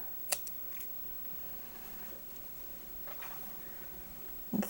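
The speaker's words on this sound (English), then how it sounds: "we'll cut off a length of yarn" Scissors snip a length of blue yarn for knitting on a round loom. Two or three faint, brief snips sound near the start and again at the end, with quiet room tone between.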